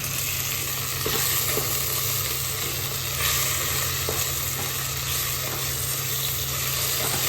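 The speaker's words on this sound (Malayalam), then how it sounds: "അതായത് ഓണിയൻ കുറച്ച് ഫ്രൈ ആയി വന്നിട്ടുണ്ട് ശേഷം നമ്മൾ കുറച്ച് ചില്ലിയും പിന്നെ ജിഞ്ചർ ഗാർലിക് പേസ്റ്റും ഇട്ടൊന്ന് മിക്സ് ചെയ്തെടുക്കാം" Onion frying with chili and ginger garlic paste in a pan, a steady close sizzle running throughout with light scraping of a spoon mixing now and then.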